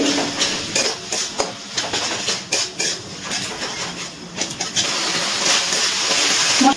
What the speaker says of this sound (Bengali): ক্যাপসিকামটা একটুখানি নাড়াচাড়া করে দিচ্ছি মশলার মধ্যে